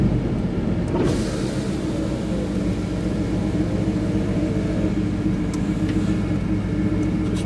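A GMC Jimmy engine idles smoothly after a drive, a steady, moderately loud low rumble with light rattles and a brief knock near the start, no voices.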